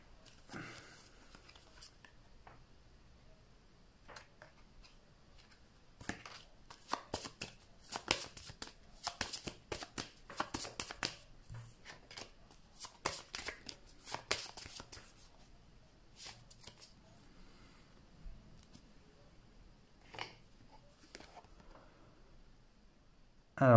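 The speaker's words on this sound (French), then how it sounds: "Mélanger toutes ces cartes." A deck of game cards shuffled repeatedly during a tabletop adventure game, with bursts of crisp riffling and flicking, then quieter handling of the cards, all close and without talk.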